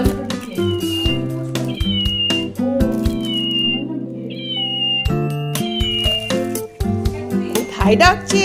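A cat meows over and over, its clear tonal calls coming close and loud in a quick irregular series, with a few short clinks in between.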